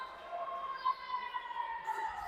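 Signal siren sounding at the end of an under-10 youth futsal match, a steady wavering tone lasting a couple of seconds amid arena noise and talk.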